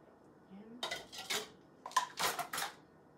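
Pandesal yeast bread dough being stirred in a bowl, heard as several short scraping and clinking bursts of a utensil against the bowl, close and fairly quiet, with no talking.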